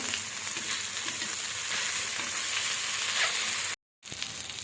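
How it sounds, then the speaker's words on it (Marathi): Bombil (Bombay duck) fish fry in a pan with a steady, close, loud sizzle and crackle that runs unbroken, then cuts out briefly near the end before resuming. "अशा प्रकारे आपण बोंबील व्यवस्थित इथे लावून घेणार आहोत तर आता हे पलटून घेऊया दुसऱ्या बाजूने सुद्धा व्यवस्थित फ्राय करूया"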